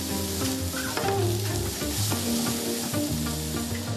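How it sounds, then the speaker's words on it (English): Roughly chopped wild mushrooms and strips of spring onion fry in butter with a steady, close sizzle and crackle, joined by soft scraping from stirring. "The roughly chopped wild mushrooms are fried in butter together with a spring onion cut into strips."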